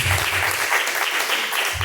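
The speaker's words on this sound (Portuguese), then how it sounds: "Palmas que louvam e engrandece a Deus" A church congregation claps in praise of God during a live worship service, a dense, steady wash of hand claps filling the space throughout.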